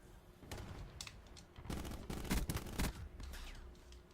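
Gunfire in a fast-paced online shooter game, several bursts of shots rattling close and loud in clusters across a few seconds with busy game noise between.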